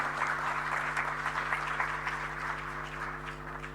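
Faint audience clapping at the inaugural ceremony of an international conference, a soft patter of hands heard behind a steady electrical hum.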